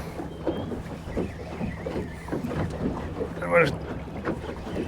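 A small fishing boat heads away from shore on a bass-fishing lake in strong wind, with a steady motor rumble and buffeting wind noise on the microphone, and someone speaks briefly over it.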